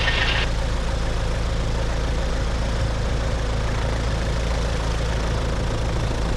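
A Zenith light aircraft engine idles as it warms up before a grass takeoff, giving a steady, loud low drone that holds unchanged from start to finish, with no talking over it.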